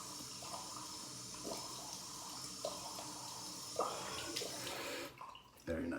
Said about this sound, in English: I'm just going to rinse cold down here